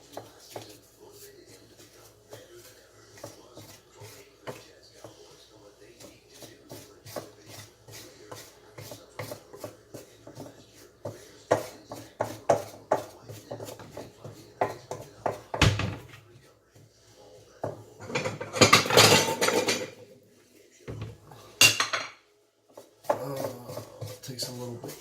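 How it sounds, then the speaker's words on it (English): Flour gets mixed into wet oatmeal cookie dough in a bowl, heard as a fast run of soft close taps and scrapes. The stirring builds into louder, harsher bursts of knocking against the bowl, with a few short pauses. "Then you want to mix the flour until it is all blended in with that wet mix you just made."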